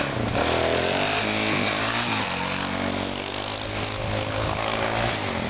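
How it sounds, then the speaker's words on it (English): A motorcycle engine revs hard and loud nearby during a wheelie, a continuous buzzing drone that rises and falls in pitch. "Just gonna wheelie right past us."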